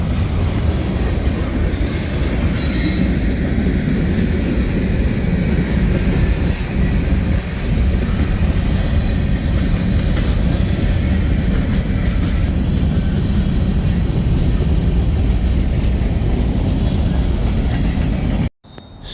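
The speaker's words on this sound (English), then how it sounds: "Let's go up here and look at the trains." A train rumbles past close by in Chattanooga, Tennessee, a steady loud roar of wheels on rails with faint clatter, continuing for the whole stretch before cutting off abruptly.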